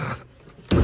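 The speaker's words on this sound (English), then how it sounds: "Open and close that door." A Dodge Durango Hellcat's car door swings shut with one solid, close thunk near the end, following a short stretch of quiet outdoor ambience.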